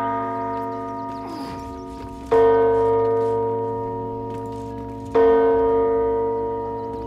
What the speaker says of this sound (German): Aha, eine Glocke.